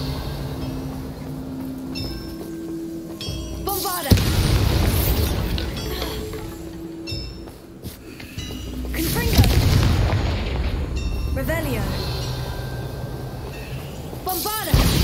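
Bombarda explosion spells fired in the video game Hogwarts Legacy: heavy booming blasts with rumbling low-end tails, one after another, mixed with game effects and a voice calling out spell names.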